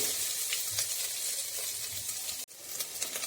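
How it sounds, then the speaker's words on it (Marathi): Cashews, almonds and raisins roast in ghee for wheat kheer, giving a steady, close sizzle with a few soft stirring scrapes and a brief dip in the middle; no voices. "काजू आणि बदाम आणि बेदाणे हे सुद्धा या तुपामध्ये घालत आहे आणि थोडंसं भाजून घेत आहे"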